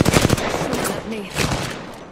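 Gunfire in Apex Legends: a rapid, close burst of automatic shots at the start, then continued fire with game noise over a couple of seconds.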